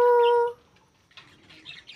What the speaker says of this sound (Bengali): আমাদের বাড়িতে কিন্তু টিয়া পাখিও রয়েছে